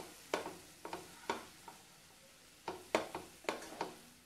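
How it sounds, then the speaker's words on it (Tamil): Mixed vegetable poriyal with grated coconut and curry leaves being stirred in a pan, with quiet, intermittent spoon scrapes and taps spread unevenly over a soft background sizzle. "இது கூட நம்ம துருவி வச்சிருக்க தேங்காய் சேர்த்துடலாம். கருவேப்பிலை இதெல்லாத்தையும் நல்லா கலந்து விட்டுறலாம்."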